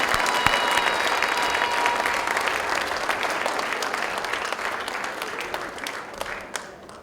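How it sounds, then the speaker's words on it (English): A large audience at a recruit academy graduation ceremony applauds in a steady, dense wash of clapping that holds at full strength and slowly tapers toward the end. "give a huge round of applause to Ken and Brian"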